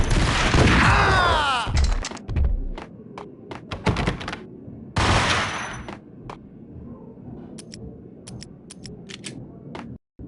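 Gunfire in the Max Payne video game opens with a dense, loud burst of shots, then gives way to scattered single shots and thuds through the rest of the clip, with no talk.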